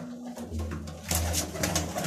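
Many flying pigeons in a keeper's loft coo in a low, continuous, overlapping rumble that swells slightly halfway through, with no voices.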